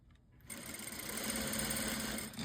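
A sewing machine starts up and runs steadily, stitching bias tape over cording with a close, continuous whirring drone.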